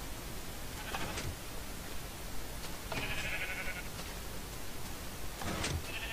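Blocky sheep bleating in Minecraft, three short nasal bleats spaced a couple of seconds apart over a constant hiss of background noise.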